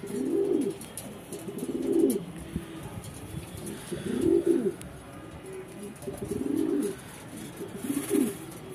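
Racing pigeons back home in the loft coo in repeated low, rolling phrases about every two seconds, close and clear over a quiet background.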